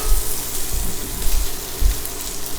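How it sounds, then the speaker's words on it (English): A spatula scrapes under a Philly cheesesteak on a hot griddle amid steady loud sizzling, with a few low scraping thumps rising through the frying hiss. "take your spatula, get all up under there."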